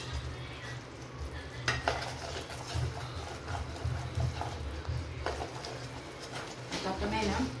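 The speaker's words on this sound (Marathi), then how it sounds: "तर बघा मंडळी कसं गुळ वितळलेलं आहे. आणि बघा कसं पाक झालेलं आहे." Melted jaggery syrup cooks down in a pan for sesame chikki, bubbling with a low thick simmer while a spoon stirs and scrapes, and a voice talks faintly in the background.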